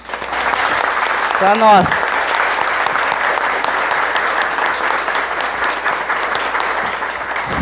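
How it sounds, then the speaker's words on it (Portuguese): Audience at a debate of candidates for child-protection council in Curitibanos gives event organizers a round of applause, a sustained even roar of clapping throughout, with a brief spoken phrase near the start. "E eu queria pedir uma salva de palmas para eles."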